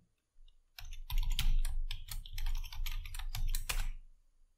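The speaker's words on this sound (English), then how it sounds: "I'm going to type this command and insert the password that I've given here" Rapid bursts of computer keyboard typing as a command and password are entered on an Ubuntu Linux virtual machine, with close, crisp clicks in quick uneven runs and no voices.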